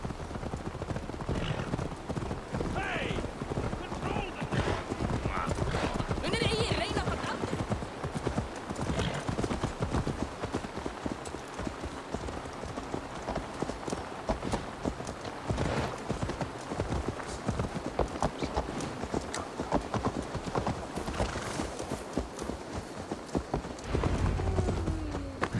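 A horse clip-clops steadily in Assassin's Creed Valhalla, its hooves beating a brisk, continuous rhythm up close, with a brief neigh early on and speech over part of it.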